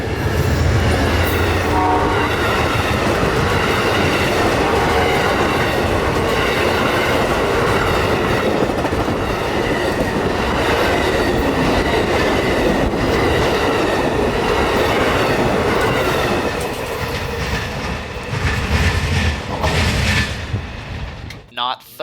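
An Amtrak passenger train rushes past in Central Florida, its horn sounding loudly over the steady roar and clatter of wheels, close and continuous throughout before easing slightly near the end; a voice is faintly present.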